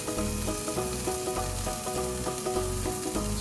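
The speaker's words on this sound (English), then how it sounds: "let that sit there and sear just a few minutes" Corn sears in a hot cast iron skillet with a steady, close sizzle and crackle, occasional stirring sounds, no voices.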